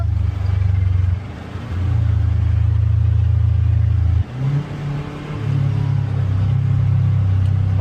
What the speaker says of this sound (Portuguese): Ó o freio motor.